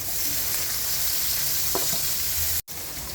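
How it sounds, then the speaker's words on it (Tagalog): Tomatoes frying in a pan for Ilocano pinakbet give off a steady, close hiss of sizzling that carries on evenly, with a brief cut to silence near the end. "Lutuin muna natin ang kamatis hanggang sa siya ay maging malambot na."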